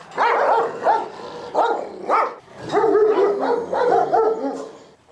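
An Aspin dog barks in repeated close, loud bursts with short yips and whimpering tones between them, no talking over it.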